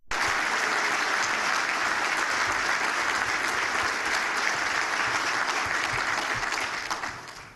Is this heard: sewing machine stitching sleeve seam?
no